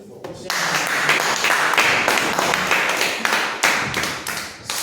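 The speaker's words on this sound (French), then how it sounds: "Acclamons très fort." A church congregation applauding loudly, dense close clapping that bursts in abruptly and sustains with sharp slaps and cheering voices mixed in, tapering slightly near the end.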